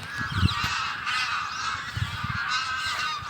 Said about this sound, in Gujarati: જ્યાં નીરવ શાંતિમાં માણીશું આ પક્ષીઓને અને તેમના કલરવને